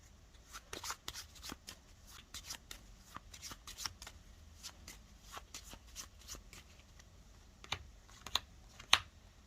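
Playing cards being drawn and handled during a solo board game session: soft, quick flicks and slides in a close, quiet series, with a few sharper snaps near the end.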